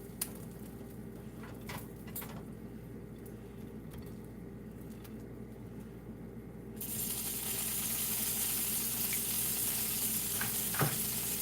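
Sausage frying in a pan beside home fries, giving a steady close sizzle with faint crackles and small pan clinks, louder and brighter through the second half.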